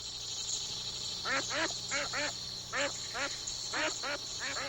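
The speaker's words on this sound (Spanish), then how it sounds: "estos patos canadienses que, escapando del frío invernal, encuentran refugio y alimento en las aguas" Canadian ducks on Xochimilco lake quacking in short paired calls, repeated several times in an irregular rhythm at moderate distance over a steady background hum.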